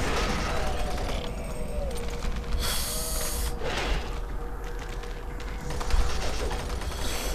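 Rapid automatic gunfire in the Doom 3 BFG Edition video game as enemies are mowed down, sustained bursts of shots with mechanical clatter and creature noises, steady and close.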